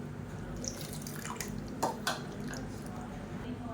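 Tamarind water is poured into a pressure cooker in a home kitchen, giving soft splashing and a couple of brief metallic clinks and drips at close range.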